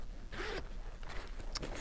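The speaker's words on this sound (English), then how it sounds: "this is the mini tote, and this has a zipper, which is fun" A zipper on a small fabric mini tote bag is pulled open and closed in a few quick, close rasping strokes, with short pauses between them and no one speaking.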